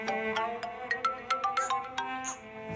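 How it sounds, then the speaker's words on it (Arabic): A telephone ringtone in an Egyptian film scene: a bright electronic melody of quick, pulsing notes repeating at a loud, even pace, heard on its own without talk. "خلوه هيرد على التليفون"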